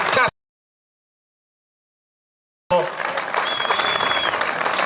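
Crowd applause at a hill-climb rally podium and trophy presentation, a short burst of clapping, a gap of silence, then sustained loud clapping with a faint whistle over it.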